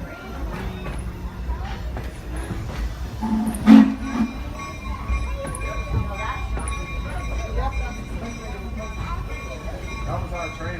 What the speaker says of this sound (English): That was our train, honey. 611.